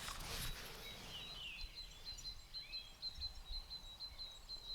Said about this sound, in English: Recording birds.